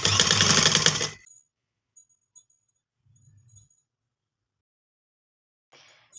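A sewing machine stitches cloth over a cord while making a baby girl's frock from fabric cut pieces, one loud continuous burst of stitching for about a second, then near silence with a few faint clicks and handling noises.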